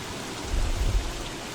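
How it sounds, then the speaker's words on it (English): Rain falling in the video game Don't Starve, a steady broadband hiss with a low rumbling swell in the middle, heard alone. "Oh God, it's raining."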